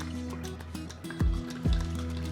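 Water pours in short glugs into a jar for brewing kombucha, two rising gurgles close by over a low steady hum.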